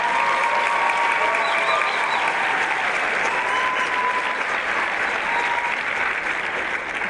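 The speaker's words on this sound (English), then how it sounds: "Can we please give another round of applause?" Sustained applause from an audience at a Gauteng choral event, dense and steady for the whole stretch, with faint voices and a few cheers mixed into the clapping.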